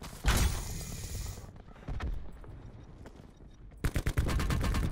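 Gunfire in Call of Duty: Blackout: a loud sustained burst of automatic fire, then quieter scattered shots, then another close, rapid burst of rhythmic shots at the end.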